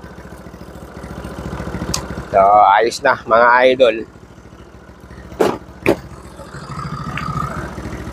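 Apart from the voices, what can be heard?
motorcycle engine idling after revving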